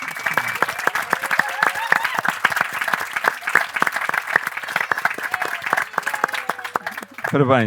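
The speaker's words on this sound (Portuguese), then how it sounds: "merece uma salva de palmas nossa, porque foi a ideia dela" An audience applauds a talk's host honouring the woman whose idea began the project, at a lecture on sacred plants. Dense, steady clapping runs for several seconds close to the listener, with a brief voice or whistle-like sound at the end.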